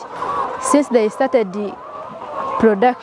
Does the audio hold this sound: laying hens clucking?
yes